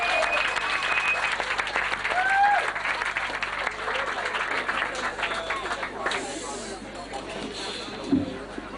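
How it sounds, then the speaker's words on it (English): Wedding guests give a round of applause before a toast, a broad wash of clapping that swells early and then gradually fades, with a few voices and cheers rising faintly within it. "A round of applause, please."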